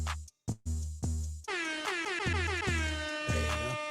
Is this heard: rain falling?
no